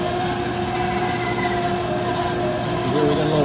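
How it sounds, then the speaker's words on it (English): A bandsaw runs steadily while a worn guide bearing adds a thin, persistent whine over the hum of the blade and motor, constant for a few seconds with a slight shift near the end. "we got a little bearing that's making a little noise on our guides on this saw"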